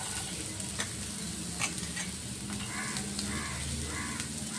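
Cabbage, onions and green chillies fry in a hot pan for egg fried rice, a steady close sizzle with occasional stirring scrapes and clinks running throughout, no voices.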